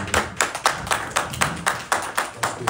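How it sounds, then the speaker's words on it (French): A crowd of fans claps at a press conference, a rhythmic burst of hand claps landing in a steady beat, close and fairly loud, with no talk over it. "je leur demande de les applaudir pour moi"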